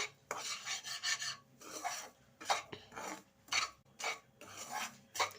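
Semolina is stirred and roasted in ghee in a pan, with repeated scraping strokes of a spoon against the metal in an uneven rhythm, fairly quiet and close.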